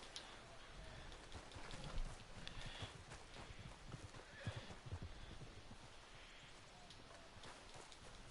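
A horse in the video game Red Dead Redemption 2 clip-clops along at a steady walking rhythm, quiet and close, over a soft pattering rain-like background.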